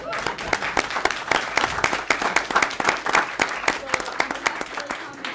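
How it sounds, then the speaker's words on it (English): Audience applause at a North Chicago city meeting: a dense, steady patter of many hands clapping close by for several seconds, with people talking over it. "You can clap for that."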